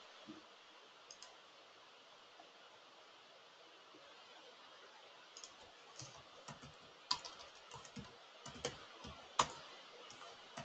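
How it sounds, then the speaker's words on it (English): Typing on a computer keyboard, faint quiet clicks that start sparse and grow into a quicker run of keystrokes toward the end, with no talk. "So I'm typing out some layers to be created here."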